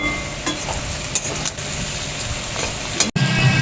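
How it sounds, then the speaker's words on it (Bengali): Steady sizzling of onions frying in a pan for chicken curry, a continuous crackling hiss with occasional stirring scrapes, close and fairly loud. "আমার পেঁয়াজ লাল লাল হয়ে ভাজা হয়ে গেছে"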